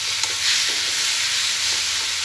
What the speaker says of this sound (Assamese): আৰু 3 মিনিটমান সময় ভাজি ল'ম